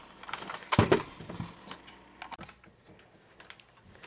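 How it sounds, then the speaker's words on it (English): Nerf Rival Roundhouse blaster firing standard yellow foam rounds: one sharp, loud pop near the start, followed by several softer mechanical clicks and rattles, close up with no talking. "I'll be shooting standard yellow Nerf Rival rounds for this."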